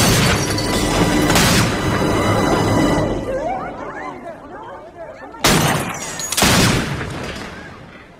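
Gunshots ring out in a tense crime-drama confrontation, a loud burst of firing followed by two more sharp blasts a few seconds later, with voices in the background.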